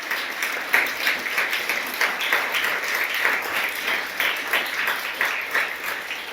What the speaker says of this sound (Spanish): Dele un fuerte aplauso al que vive.